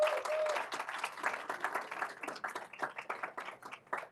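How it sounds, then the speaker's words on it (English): Audience applause for event volunteers at a product pricing conference, a modest crowd clapping in quick, distinct claps that grow sparser and fade out over a few seconds. "So maybe just a quick round of applause for all the volunteers that are making TPMA possible."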